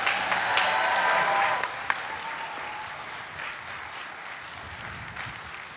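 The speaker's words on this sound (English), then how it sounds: "Can we give her another round of applause?" An indoor audience at an International Women's Day celebration claps in a dense burst of applause that fades after a couple of seconds into scattered, dwindling claps.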